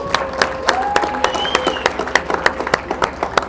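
Audience applause at the AERO South Africa 2024 aviation expo: scattered, fairly sparse clapping from a gathered crowd, with individual sharp claps standing out over a steady murmur and a brief whistle-like tone.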